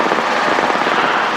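Helicopter on a steep landing approach, heard from inside as a steady, loud rotor and engine roar with a fast, even chop throughout.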